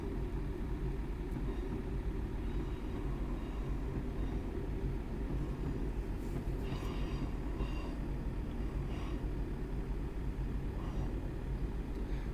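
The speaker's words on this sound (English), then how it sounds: "I'm just going to allow the train to coast along here at 15 for now" Train Simulator 2021 train on the Shrewsbury to Swansea route coasting at 15 mph: a steady low rumble of rolling wheels and running gear, continuous and even throughout with faint higher clatter, no voices.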